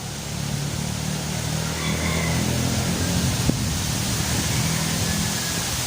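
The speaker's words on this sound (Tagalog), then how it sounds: "Lakas ng hangin oh." Strong wind blows steadily as a loud, broad rushing roar, with a brief thump partway through.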